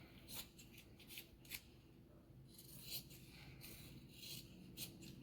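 Scissors snip through a piece of fabric in a series of short, crisp, quiet cuts with a soft rustle between them, recorded close up.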